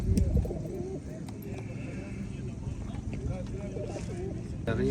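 Pigeons coo softly among a busy crowd at a pigeon show, their low warbling calls mixed with steady background chatter and occasional shuffling noises.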